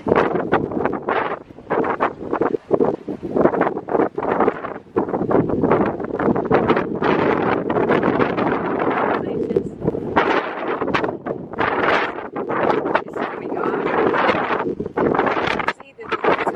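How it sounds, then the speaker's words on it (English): Strong outdoor wind buffets the microphone in loud, continuous gusts and rumbles, with a person talking underneath throughout. "Yes, it is very, very windy."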